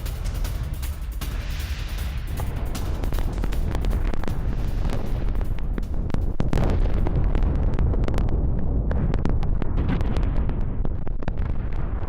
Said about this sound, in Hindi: में जोरदार धमाका हुआ।